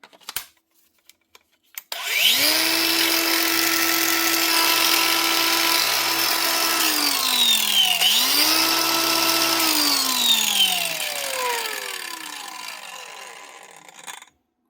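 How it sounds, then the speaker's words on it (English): Repaired 2021 Hikoki G18DBL brushless cordless angle grinder fitted with a new switch spins up with a loud rising whine, runs steadily, dips and revs again, then winds down slowly, with clicks before starting. "One brushless Hikoki grinder from 2021, the G18DBL, that's getting used and abused and full of dust, up and running again with just a new switch."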